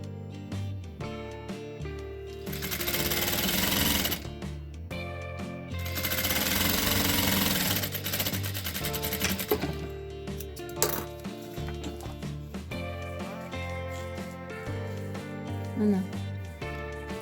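A sewing machine stitches a garment seam, running in a steady rapid mechanical chatter with short pauses, fairly loud and close, with no talk over it.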